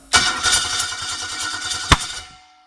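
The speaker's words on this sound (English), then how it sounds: "as soon as the engine fires, before it races away, you're going to chop the throttle" A motorcycle-style engine is cranked, then catches and fires up loudly, running in rapid uneven bursts with a sharp bang near the end before it is cut and falls silent.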